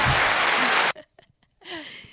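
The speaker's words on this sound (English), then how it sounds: "clap it up for Samantha" Loud burst of audience applause for a woman named Samantha at a concert, lasting under a second and cutting off abruptly, followed by quiet murmurs, breaths and a brief voice.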